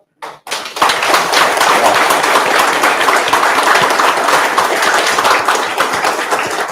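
Sustained applause from an audience at a pride celebration panel discussion, dense and loud, beginning after a couple of brief isolated claps and continuing steadily without talk.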